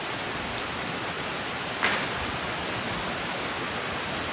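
Heavy rain pours down in a dense, steady roar with a brief sharper patter midway, loud and close, with no voices.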